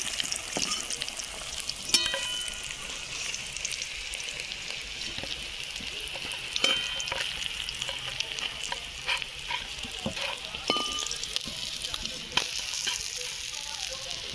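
Pieces of rohu fish fry in hot oil, giving a steady, close bubbling sizzle throughout, with occasional sharp pops and spatula scrapes.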